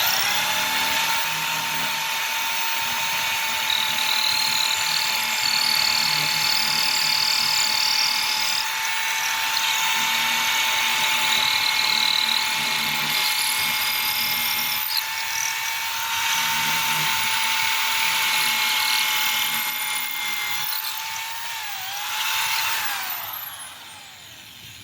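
Drill boring a hole into concrete, a loud continuous high whine with a steady hum that runs unbroken for the whole stretch, shifting slightly in pitch near the end as it winds down.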